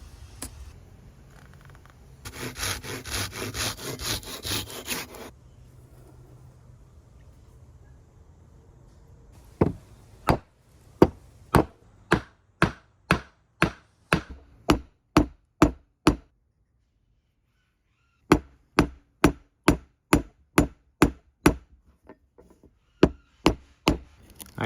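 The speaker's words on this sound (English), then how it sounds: "I'm gonna use this dowel plate, and essentially I'm gonna turn the square into a circular dowel going from 3/8 to 5/16 to 1/4" A square wooden peg is driven through a metal dowel plate with a hammer: after a brief rustling burst, sharp evenly spaced wooden knocks come in quick rhythmic runs separated by short pauses, close and clear.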